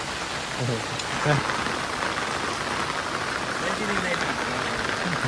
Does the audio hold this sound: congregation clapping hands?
no